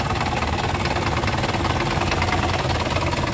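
A 1996 Isuzu Panther Royale with its 2.5-litre diesel engine idling, a steady, dense mechanical clatter and rumble held at an even level, close by and without pause.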